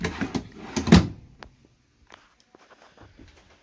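Drawers in a 2019 Prowler 22LX travel trailer slide and thump shut with a few quick knocks and rattles, followed by softer faint clicks and shuffles, with no voices.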